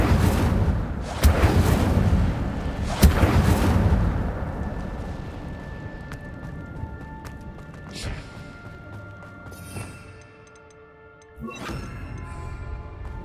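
An Incendio fire spell is cast in the Hogwarts Legacy video game, a loud whooshing, roaring blast with crackling bursts that fades into quieter game ambience and a few later thumps.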